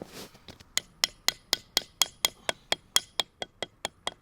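A small hammer taps a metal spile into a maple tree in a steady series of sharp, ringing strikes, about four per second, close by with no talking.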